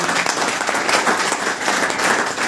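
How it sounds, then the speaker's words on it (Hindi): Dense, steady applause from a large audience at an RCM business gathering, filling the whole stretch evenly and fairly loud with no break and no voices above it. "मैं चाहूंगा एक बार जोरदार तालियां सबके लिए।"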